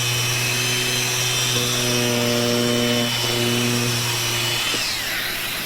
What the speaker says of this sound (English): So that's the Deltex sander.